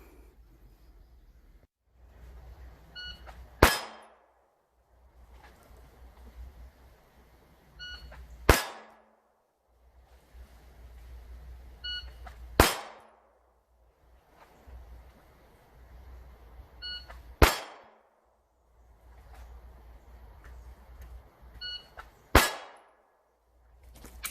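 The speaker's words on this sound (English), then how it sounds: "All right, that was 25 yards, 5 shots, 5 hits." A Glock 19 pistol without sights fires at a steel silhouette target 25 yards away, five sharp shots spaced several seconds apart, each a loud crack with a ringing tail from the hit, and no talking.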